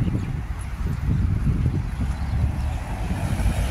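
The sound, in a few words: wind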